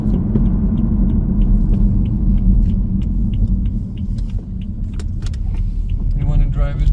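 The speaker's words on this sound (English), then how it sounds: "The engine runs good now." A freshly rebuilt BMW 7 Series engine runs steadily as the car drives, a continuous low road rumble with faint clicks and rattles, and people talk quietly over the cabin noise.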